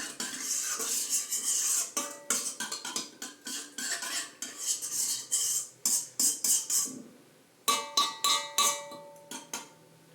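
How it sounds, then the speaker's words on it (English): A metal spoon stirring sauce in a bowl, rapid repeated clinks and scrapes against the sides in bursts with brief pauses, close and fairly loud. "Just get another normal spoon, mix that in a little."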